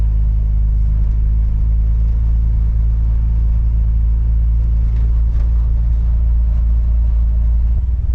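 A Chevrolet Corvair on a road test drive gives off a steady, loud low engine rumble and road noise, constant throughout with no talking.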